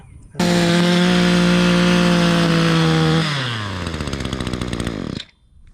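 A cordless string trimmer motor starts up loud and close with a high, steady whine. After a few seconds it winds down with a falling pitch and stops.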